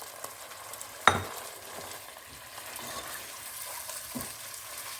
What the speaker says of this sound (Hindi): जब ये अच्छी तरह से फ्राई हो जाएगा